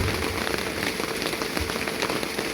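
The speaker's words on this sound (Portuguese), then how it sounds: "A chuva está caindo, a gente continua pregando." Steady rain falls continuously and evenly throughout, a dense wash of patter on surfaces with no talk over it.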